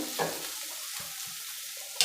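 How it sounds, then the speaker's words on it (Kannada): A lentil and garlic mixture fries in oil in a pan as it is stirred, giving a constant soft sizzle broken by scraping stir strokes and a sharp clatter at the end. "ಈ ಥರ ಎಣ್ಣೆಲ್ಲೇ ಫ್ರೈ ಆಗೋ ಥರ ಸ್ವಲ್ಪ ಹೊತ್ತು ನೋಡ್ಕೋಬೇಕು ಈ ಥರ ಮಿಕ್ಸ್ ಮಾಡ್ತಾ ಇರಬೇಕು"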